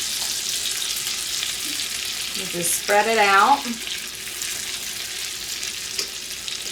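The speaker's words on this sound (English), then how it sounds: "we're going to get this in the hot skillet. And it really should be sizzling a little more." Cornbread batter for gluten-free Southern cornbread dressing sizzles gently in a hot buttered skillet, a steady soft hiss throughout, with a person speaking briefly over it midway.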